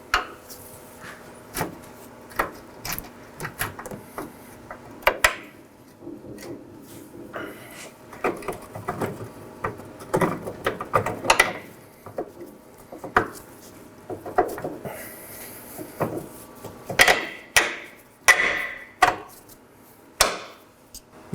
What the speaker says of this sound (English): Now I'm going to slide in my forward bolt.